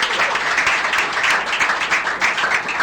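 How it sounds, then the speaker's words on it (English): A studio audience on the Brekete Family programme claps steadily for a woman, a dense, even patter of many hands throughout, with no speech on top. "Una no go clap for her"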